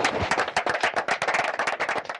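An audience at a Kémi Séba meeting applauds, giving a dense, steady burst of many hands clapping that stays loud and continuous throughout, with no voices on top.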